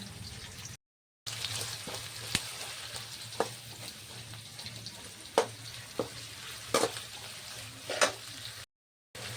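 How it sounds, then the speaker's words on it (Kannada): Onions fry in a pan with a steady, crackling sizzle as a spatula stirs and scrapes them, giving periodic clinks against the metal, with two brief silent breaks. "ಈಗ ಉಳ್ಳಾಗಡ್ಡಿ ಅದಕ್ಕೆ ಹೀಗೆ ಮಾಡ್ಕೊತೀನಿ ಚಂದ ಫ್ರೈ ಮಾಡ್ಕೊತೀನಿ"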